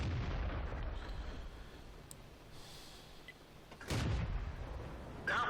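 A tank gun in World of Tanks fires with a sharp booming blast near the end, following a quieter rumbling stretch of game ambience.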